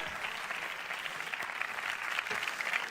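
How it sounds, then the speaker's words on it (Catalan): A crowd applauds Manuel at a Festa Major Corpus proclamation ceremony, soft, steady clapping with a few sharper claps standing out, heard from some distance. "¡Aplaudiment para Manuel!"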